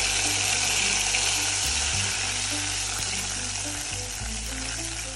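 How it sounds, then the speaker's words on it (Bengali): Chopped tomatoes are poured into a hot pan while chicken sausages are cooking, giving a loud, steady hiss and sizzle that fills the whole stretch with no speech. "এখন আমি টমেটোটা ঢেলে দিব।"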